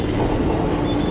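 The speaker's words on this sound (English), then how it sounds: "Metro train. An urban rail system operating mostly underground or on elevated tracks for quick city transport." A metro train, an urban rail carriage running underground or on elevated track, gives a dense, steady rolling roar with rumble and faint high squeals, loud and close throughout a brief stretch.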